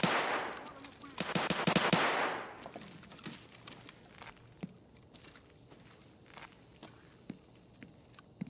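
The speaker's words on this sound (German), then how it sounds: "Hörte sich nach einer Pistole an." A pistol shot in a video game rings out as a short, sharp burst near the start, followed by faint scattered clicks and soft thuds in quiet surroundings.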